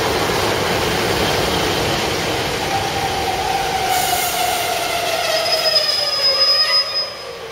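A train rolls past steadily with a continuous rumble and wheel noise, a faint high squeal rising near the end as it moves away.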